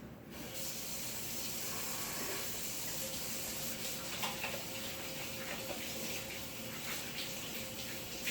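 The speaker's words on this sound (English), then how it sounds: "I'm going to wash my hands real quick again." Running tap water splashing steadily as hands are washed at a sink in a kitchen, a continuous faint hiss of flowing water with no talking.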